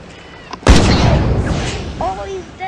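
A loud gunshot boom fires once in the hunting video game Dino Hunter Deadly Shores, a sharp blast followed by a rumbling decay, with a voice talking faintly underneath.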